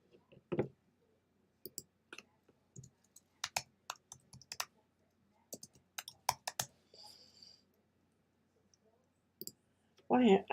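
Typing on a computer keyboard indoors: scattered bursts of sharp close key clicks with pauses between, someone speaking briefly at the start and end.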